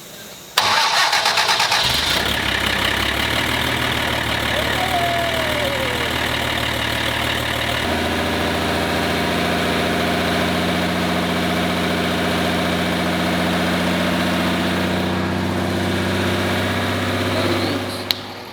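A diesel race-truck engine fitted with Bosch injectors cranks briefly, fires up and settles into a loud, steady idle close by, with a slight shift in tone partway before cutting off at the end.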